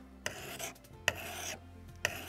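A sharpening file rasps along the blade of fruit pruning shears in three slow, even strokes, each starting with a scrape and trailing off in a gritty hiss, close and alone.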